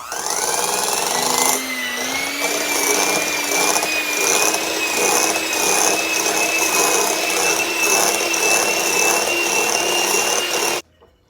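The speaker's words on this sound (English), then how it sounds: "And we're going to use my new mixer. Going to cream these on medium speed until they're fluffy." A new electric stand mixer on medium speed creams butter and cream cheese, a loud steady motor whine with a rhythmic churning texture running continuously for about ten seconds before cutting off abruptly.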